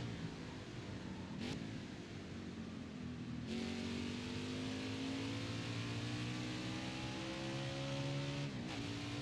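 Race car engine in NASCAR Heat 5 during an Xfinity Series race, a steady loud drone whose pitch climbs slowly through gear changes, with a couple of brief whooshes of cars passing close; no talk.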